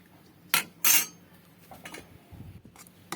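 A spoon stirs sago in a metal pot, giving a few sharp scraping clinks against the sides with quieter shuffling between, close and alone.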